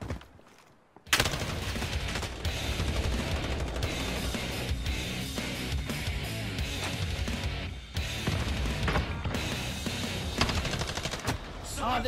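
Rapid automatic gunfire from a video game gun crackles in dense, sustained bursts after a brief quiet opening, loud and close, broken by a few short pauses and overlaid by occasional talk.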